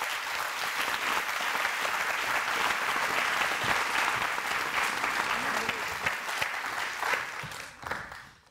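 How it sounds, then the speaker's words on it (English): A conference audience breaks into sustained, dense applause that holds steady for several seconds and then tapers off, with a few scattered claps at the end. "so I'm going to give them a round of applause."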